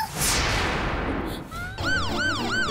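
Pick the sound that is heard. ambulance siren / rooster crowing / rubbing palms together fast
ambulance siren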